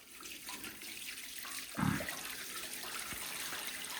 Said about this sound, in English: then I will fill this up with water.